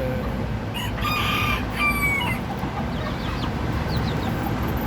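Blue-colored bantam chickens on a breeding farm, with one rooster crowing in a short clear call near the start amid steady background noise and scattered chirps.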